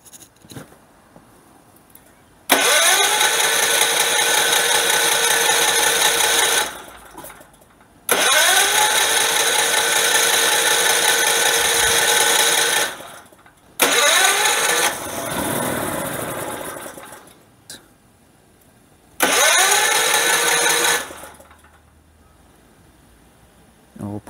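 A tri-fuel generator engine running on propane starts repeatedly in four loud bursts, each firing up and running for several seconds before cutting out, with quiet gaps between attempts.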